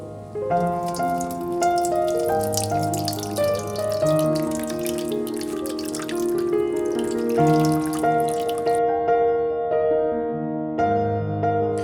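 Rose water mixed with agaru and flowers is poured over a Lakshmi idol during a ritual bath, a continuous splashing trickle running close by with tonal ringing behind it, briefly quieter near the end.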